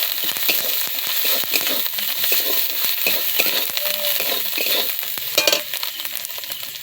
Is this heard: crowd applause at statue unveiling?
no